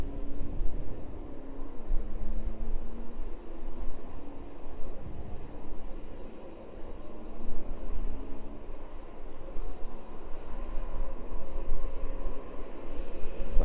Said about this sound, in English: There we go, landing safely into East Midlands then. 767 making its way down from Reykjavik this evening.